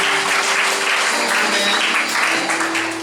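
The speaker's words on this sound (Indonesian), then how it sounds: "berikan tepuk tangan buat Tuhan" A church congregation applauds during a service, an even, sustained patter of clapping under a faint held tone, fairly loud throughout.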